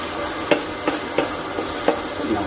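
A spoon stirs a green pea and paneer curry mixture in a pan with soft sizzling underneath, giving several distinct scraping knocks spaced about every half second.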